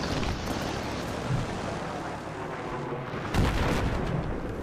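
Javelin missiles striking the player in Battlefield 3 multiplayer on Wake Island, a dull, continuous rumble of battlefield noise with a sharper, heavier impact blast near the end.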